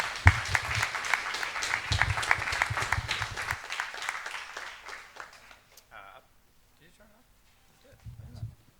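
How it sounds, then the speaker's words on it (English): Audience applause at the ETHIndia 2.0 hackathon closing ceremony, steady crowd clapping over a loud sound system that tapers off after a few seconds, leaving a quiet stretch with a few stray sounds. "Huge round of applause to all of you."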